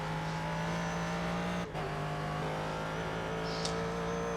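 A race car engine in iRacing at The Glen holds a loud, steady high-pitched drone, with a brief dip near the middle that sounds like a quick gear shift before the engine note resumes.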